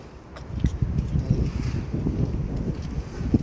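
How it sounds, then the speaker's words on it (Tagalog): Gusty wind blows outdoors on a hot day, rumbling against the microphone in uneven low buffets, with faint rustling and occasional footstep-like knocks underneath. "Buti na lang may hangin-hangin."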